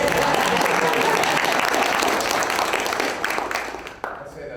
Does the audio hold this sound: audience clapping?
yes